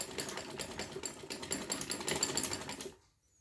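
A sewing machine stitching fabric sleeves, a fast rapid clatter of needle strokes close up, running steadily for about three seconds before stopping abruptly into quiet.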